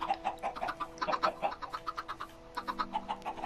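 Minecraft chickens cluck in quick, rhythmic bursts, a steady run of short pitched clucks close by, briefly layered with a second tone partway through, with no talking.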